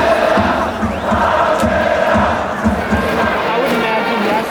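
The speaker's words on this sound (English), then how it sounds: "Insert applause right now." A crowd in Tokyo cheers and claps loudly for a star pitcher of the Tokyo Giants, a dense roar of voices and applause with shouting running throughout.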